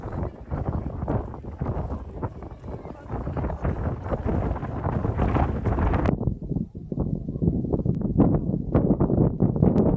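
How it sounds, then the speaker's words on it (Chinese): Strong wind near Mount Fuji, Japan buffets the microphone in heavy, continuous low rumbling gusts, loud and rough throughout. "突然有一阵大风把火山那里的雾吹散了"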